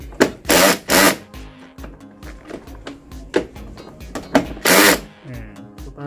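A cordless Makita impact drill fitted with an adapter drives a size 10 bolt in loud, rattling bursts, three or four hammering runs with quieter pauses and handling noise between them.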